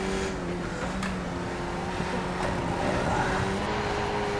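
A Skip Barber race car in iRacing on the Adelaide street circuit drones steadily at close range, its engine note holding fairly even with a slight shift as it slows for a corner, with no voices.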